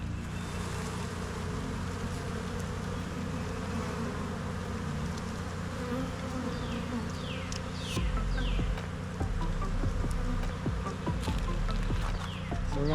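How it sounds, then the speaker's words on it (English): Honeybees swarm and buzz around an open hive during requeening, a dense, steady close drone with individual bees zipping past the microphone and no talking. "I want the bees to have it for the winter time"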